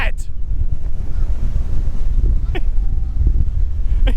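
Stormy sea waves in strong wind during Storm Dennis, heavy wind rumble buffeting the microphone over continuous surf, with brief voice-like bursts now and then.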